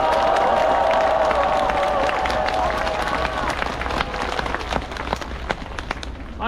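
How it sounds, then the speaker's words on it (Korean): A large outdoor crowd at a political rally in a park in front of the National Assembly in Yeouido, Seoul, applauds with sustained dense clapping and some cheering that slowly thins out. "박수를 한번 쳐주십시오."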